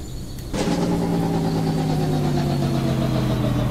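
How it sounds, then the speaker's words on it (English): Freightliner Classic XL truck in American Truck Simulator, its engine brake kicking in abruptly with a loud, steady droning growl with strong tonal bands that holds to the end, after a quieter engine hum. "The engine brake doesn't go away though"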